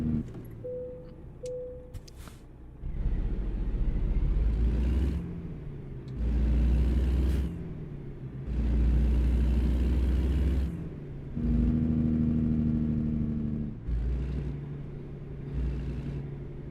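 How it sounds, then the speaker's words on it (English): Truck engine brake in American Truck Simulator, a deep rumbling growl that swells and cuts off in four or five long bursts of a few seconds each, loud and close, with brief quieter engine gaps between them. "I put my engine brake on so I can make the nice engine brake noise."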